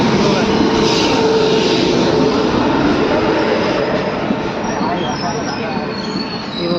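The Netravati Express pulls into Sangameshwar railway station running late, a loud continuous rumble of wheels and carriages with faint squealing, and voices talking underneath.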